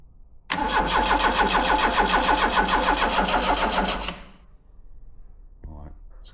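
A Ford Pinto engine in a kit car cranks with a rapid, rhythmic starter churn for about three and a half seconds, then stops, followed by a short mechanical rattle.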